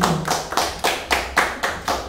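A church congregation applauds for Jesus, clapping in steady unison at a brisk, even beat, about eight loud, rhythmic claps with no talking.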